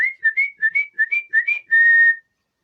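A person whistles a family call to summon a son, a clear melodic tune of seven short rising phrases followed by one long held note, close and loud with silence around it.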